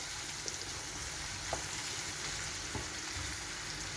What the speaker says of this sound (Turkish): şimdi bu biraz biberle kızarsın